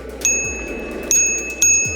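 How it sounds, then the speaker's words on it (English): A small bell on a Windone E20 electric bike rings three times, sharp metallic dings with ringing overtones spaced unevenly across a couple of seconds, close and clear over faint background hiss. "it's got the little bell right here"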